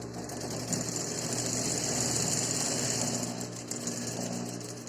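A sewing machine runs steadily stitching a seam on a fitted sheet, a loud close whirring drone that holds nearly unbroken for the whole stretch, with no talk.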